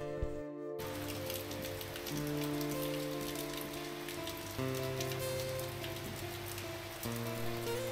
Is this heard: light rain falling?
yes